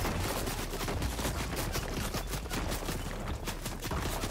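Rapid, continuous automatic gunfire from a video game match, dense bursts of shots filling the whole stretch at steady loudness with no talking.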